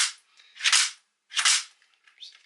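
An LCT AKS74U airsoft electric gun fires a few sharp snapping shots in a short burst, crisp and mechanical, with faint clicks trailing afterward and no talking.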